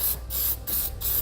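Spray paint hissing from an aerosol can onto bare metal on a 2016 vehicle's front frame near where a Roadmaster crossbar-style base plate mounts, heard as three short close bursts of broadband hiss with brief pauses between them.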